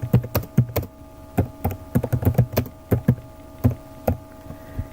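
Close, crisp keystrokes on a computer keyboard as text is typed in bursts of quick taps with short pauses, with no voices.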